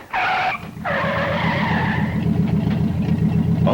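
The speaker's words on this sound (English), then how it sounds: "Okay, cut your engines, please." Cars with engines revving and tires squealing in sharp skids, two strong squeals in quick succession over a loud, rumbling engine drone, close and with no talk.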